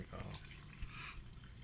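Carbonated water from a SodaStream machine fizzes with a faint, steady hiss of bubbles, close and quiet, lasting under two seconds.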